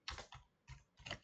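Several quick keystrokes tapped on a computer keyboard, close and quiet, in a short uneven sequence of four clicks.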